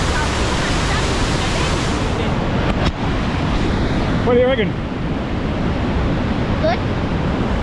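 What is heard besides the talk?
Rhine Falls waterfall roaring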